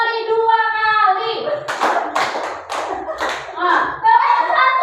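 Children clap hands together on a spoken count, a short run of four or five group claps spaced about half a second apart, framed by nearby voices calling out before and after.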